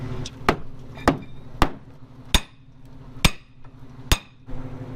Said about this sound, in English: I'm gonna grab a hammer and do a little hit in here, do a little tap tappy